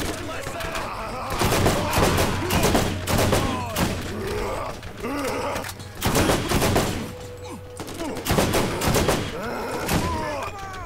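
Rapid bursts of video game gunfire in Borderlands crack and thump in repeated volleys over a constant background hum, with voices talking between shots.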